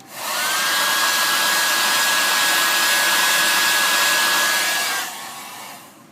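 Hair dryer blowing on rusting-effect paint to partly dry it until tacky, a loud steady whooshing roar with a faint whine that runs for about five seconds, then cuts off and winds down.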